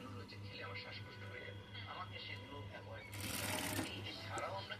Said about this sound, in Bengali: এবার ফাইনালি পাক্কা সেলাই চলছে এখন